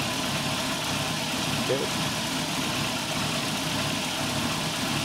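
A 1996 Nissan Altima 2.4L engine idles steadily with its EGR valve applied, a continuous close rumble with no stall, while someone speaks briefly over it.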